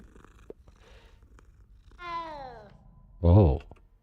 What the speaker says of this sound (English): Halo, Kitty.